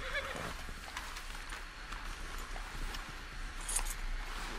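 A horse in the video game Red Dead Redemption 2 shuffles and stamps nearby alongside faint jingling tack, with soft, scattered hoof and harness sounds over a low ambient bed.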